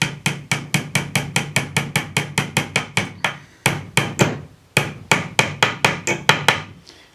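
Close, regular hammer taps on a pin in a wooden Ashford Traveller 3 spinning wheel during assembly, about twenty sharp knocks in steady rhythm with a few short pauses.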